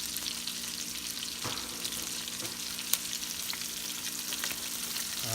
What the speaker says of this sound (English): We're gonna cook the onions.